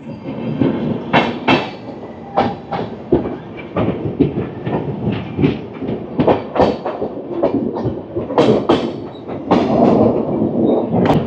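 Shatabdi Express 12041 rolls into Kishanganj station, a steady rumble of rail wagons broken by repeated clattering wheel knocks over the track joints, close and fairly loud throughout.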